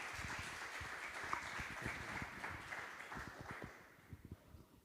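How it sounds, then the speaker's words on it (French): Audience applause for the speakers at the close of a forum session on identity models: a steady round of many hands clapping, moderately distant, thinning out toward the end. "Je voudrais qu'on applaudisse nos orateurs pour leur contribution."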